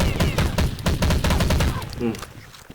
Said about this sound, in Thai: โอ้โหยิงยากปืนนี้ยิงทางระยะไกลไม่ดีครับ